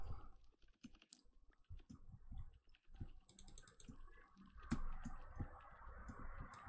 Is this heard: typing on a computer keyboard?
yes